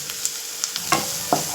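Onions sautéing in hot oil, a steady close sizzle with several crisp clicks and scrapes of a spatula stirring the pan.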